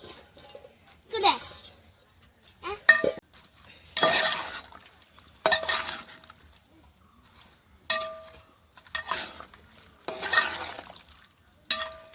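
Cut star fruit for pickle is stirred in a pan, with repeated separate bursts of scraping and metallic clinks of a spoon against the pan, spaced every second or two, and a voice in places.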